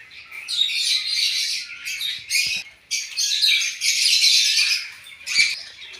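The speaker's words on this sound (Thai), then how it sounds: "น้องนกก็จะเสียงดังแบบนี้ค่ะ" Loud, harsh bird squawks and chirps overlap in bursts, close by and near-continuous, with brief pauses between calls.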